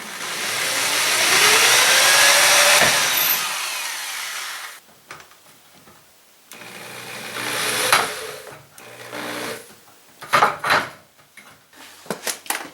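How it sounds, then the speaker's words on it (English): A power drill bores pilot holes for a sliding closet door track, a loud whining run that winds down, followed by shorter bursts and clattering knocks as the drilling continues up close. "And then drill your pilot holes."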